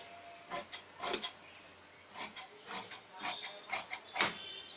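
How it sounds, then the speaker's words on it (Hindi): Tailor's scissors cut evenly through cloth for a Kalidar hip-cut salwar, giving a series of crisp snipping and scraping strokes in irregular bursts, close and moderately loud, with no talking. "कपड़ा को एक बराबर काट के"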